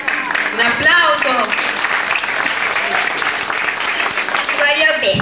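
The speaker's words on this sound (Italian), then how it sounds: "Un applauso!" Loud, sustained audience applause at an amateur musical staging of Snow White and the Seven Dwarfs, continuous clapping filling the hall while voices call out and chatter over it.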